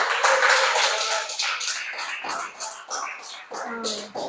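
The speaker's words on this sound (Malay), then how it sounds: "Kita bagi tepuk" A small audience at an evening Malay-language talk claps, giving a brief burst of hand claps that starts loud and thins into scattered claps, with faint voices mixed in.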